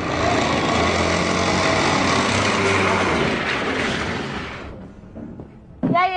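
A running engine with a strange noise drones loudly and steadily with a rough, buzzing texture for several seconds, then cuts out and fades, and a brief voice comes in at the very end.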